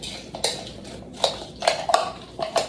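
Dill and black pepper being mixed in a bowl for a seitan carrot salad, heard as scattered clinks and scrapes of a utensil against the bowl, several sharp taps close by with no talking.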